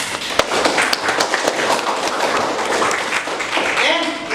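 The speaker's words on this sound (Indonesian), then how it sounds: "Terima kasih, tepuk tangan buat kita semua." Classroom audience applauding together after a teacher's closing words, a dense steady patter of many hands clapping close by, with faint talk mixed in.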